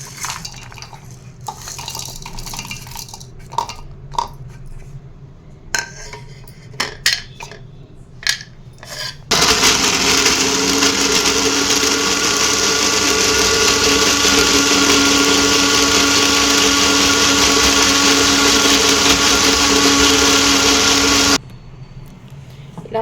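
Electric mixer grinder pulverizing ginger and shallots into a paste, starting around nine seconds as a loud, steady whirring roar that runs continuously for about twelve seconds before stopping abruptly, preceded by scattered clinks and kitchen handling sounds.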